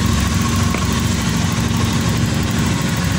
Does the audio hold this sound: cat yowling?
no